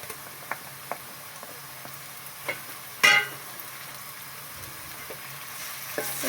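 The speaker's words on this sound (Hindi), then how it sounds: "अब थोड़ा पका लेंगे और जो हम लोग लहसुन डाला उसको थोड़ा सा भून लेंगे" Garlic frying in a pan while cooking daal mash, a soft continuous sizzle with scattered light ticks and stirring clinks, one louder scrape or clatter midway.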